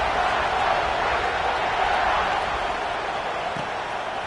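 A college football stadium crowd at Texas A&M versus Oklahoma State waits for kickoff, a broad, steady roar of many voices filling the air at a constant loud level.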